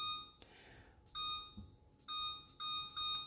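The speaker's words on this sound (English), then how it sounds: "So we're going to reset this timer" A digital kitchen timer beeps near and clearly as it is reset: one short tone, then a run of four sharp electronic beeps with brief gaps between them, against a quiet room.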